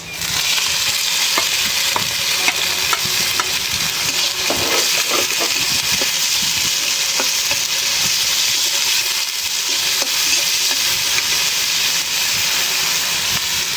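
Shrimp frying in a pan, a steady loud sizzle and hiss that fills the whole stretch, with occasional faint stirring clinks and no talking.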